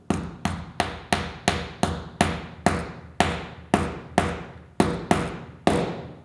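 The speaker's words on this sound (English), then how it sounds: "you can tell the tone difference in the noise of the tapping" A press tool taps a bearing into a Hope Pro 3 front hub: about sixteen sharp metallic knocks at a steady, fairly quick rhythm, each one ringing briefly, close and clear, with no voices.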